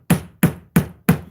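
Hammering during an indoor craft session: four sharp, evenly spaced strikes about a third of a second apart, close and loud, each ringing out briefly before the next blow, with no talk.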